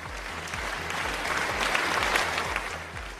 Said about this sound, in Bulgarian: Аплодисменти, дами и господа